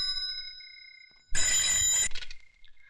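An old-style telephone bell rings in a sharp, loud burst after a quieter tonal hum, then cuts off.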